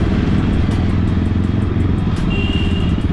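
A Jawa Bobber 42 motorcycle roars loud and steady under hard acceleration, its engine drone filling the whole stretch with a constant rumble and no pauses.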